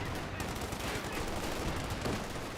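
Gunfire from an MG42 machine gun in the strategy game Company of Heroes 2, a steady dense clatter of shots at close range that fills the whole moment without any voice over it.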